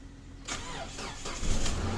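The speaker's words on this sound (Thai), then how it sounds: "ลองสตาร์ทดู สตาร์ทได้" A Toyota Fortuner's 2.7-litre petrol engine cranks briefly, catches, and settles into a steady running rumble, close and fairly loud.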